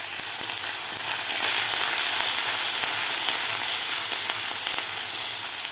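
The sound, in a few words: grated ginger, garlic and asafoetida sautéing in oil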